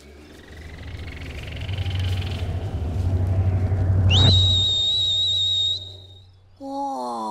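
A clear, sustained whistle rises and holds a high pitch over a rushing, rumbling background, followed by a short run of lower whistled notes.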